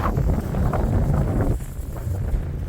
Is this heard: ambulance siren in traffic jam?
no